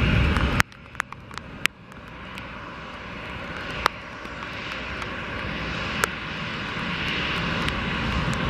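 Royal Moroccan Air Force Boeing 737-800 BBJ2 jet on departure at Montreal, a loud, steady broadband engine roar building over the whole stretch, with a few sharp clicks and ticks scattered on top.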